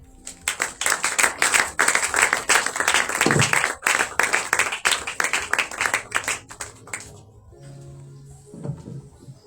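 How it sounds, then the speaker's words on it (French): Audience applause and clapping at a Passover (Pessah) celebration event, a dense burst of many hands that builds loudly, then thins into scattered claps and fades out near the end. "Sous vos acclamations, s'il vous plaît."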